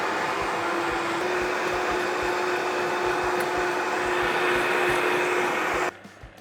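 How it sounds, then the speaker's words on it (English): Blender running on high turbo setting churning a green honey and caper puree, a loud continuous motor whine with steady whirring that stops suddenly near the end. "Now, this has been blending"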